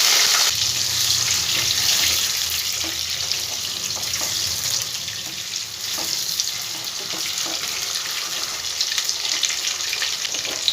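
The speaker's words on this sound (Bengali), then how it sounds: "এই তেলটার মধ্যে আলুগুলো আমি লাল লাল করে ভেজে নেব" Potatoes frying in oil in a home kitchen pan, a dense steady hiss and crackle holding at an even level throughout with faint clinks, no voices.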